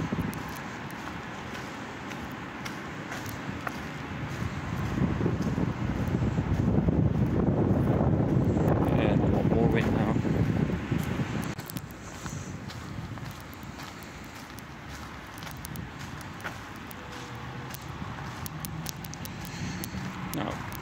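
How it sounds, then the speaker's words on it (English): Low rumbling wind buffets a Xiaomi 13 Pro phone microphone, swelling louder in the middle before easing back to a steady outdoor roar with faint scattered clicks. "It is really windy, by the way,"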